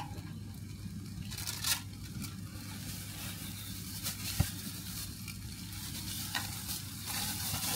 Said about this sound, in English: one healthy Morrison's paella done in a frying pan